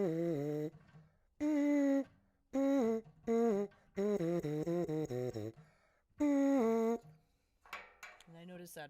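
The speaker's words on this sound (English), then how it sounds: "I'm going to play a little bit or buzz a little bit afterward in the burp" A brass instrument plays a short solo phrase of sustained notes with pauses between them, followed by buzzier, thinner attempts on a BERP mouthpiece attachment, close and moderately loud.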